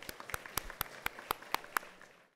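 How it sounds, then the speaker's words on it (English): Sparse, evenly spaced hand claps ring out for the ambassador, Mrs. Monika Kapil Mohta, at a business day event. Roughly nine distinct claps sound fairly close, with no voices over them. "A big round of applause for the ambassador."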